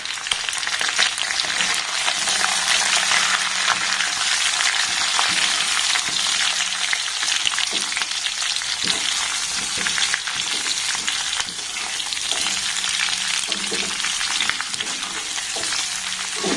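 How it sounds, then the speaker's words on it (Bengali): A green mango pickle with chopped green chilies and spices fries in a covered pan over a very low gas flame, producing a loud, continuous, even sizzle with occasional light crackles. "গ্যাসের ফ্লেমটাকে একদম লো রেখে ঢাকা দিয়ে এটাকে আমি 2 মিনিটের জন্য ভেজে নেব"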